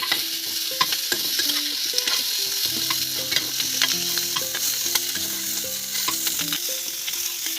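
Boiled pork, cooked without added oil so it renders its own fat, sizzles and fries in a wok while a utensil stirs and scrapes it steadily, with soft background music running underneath throughout.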